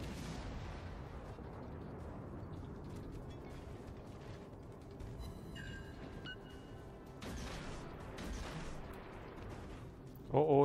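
Naval gun salvos in World of Warships, distant booms and mechanical turret clatter under a low rumbling ocean and engine bed, with a voice talking.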